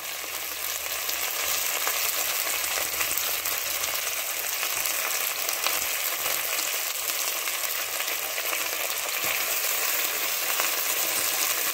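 Fresh okra frying in a pan for a curry-leaf okra egg gravy, a steady bright sizzle of hot oil with occasional stirring scrapes, close and continuous, with no talk.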